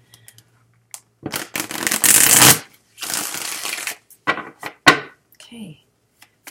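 Tarot cards are shuffled in several riffling bursts close to the microphone, separated by short pauses, with a brief spoken word in between.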